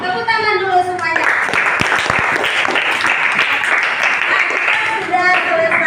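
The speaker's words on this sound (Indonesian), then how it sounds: "Tepuk tangan dulu semuanya." Children in a primary classroom clapping together after a lesson, a loud, brisk burst of many small hands that starts abruptly after a voice and fades as talk resumes at the end.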